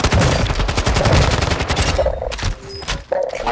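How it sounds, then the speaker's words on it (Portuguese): Rapid bursts of gunfire from the Call of Duty: Modern Warfare II video game, loud and dense with repeated automatic shots, thinning into scattered single shots near the end, with no talk over them. "Só mais um tiro aí"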